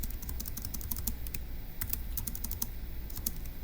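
Rapid typing on a computer keyboard while entering notes for a Turing Machine logic puzzle, with a steady patter of close, crisp key clicks and no voices.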